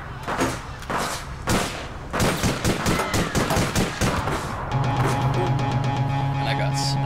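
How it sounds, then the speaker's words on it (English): Assault rifle fire in the online shooter APB Reloaded, with repeated bursts and rapid shots echoing close by, followed by a steadier mechanical hum, while a person talks over it. "My weapon of choice is also an assault rifle."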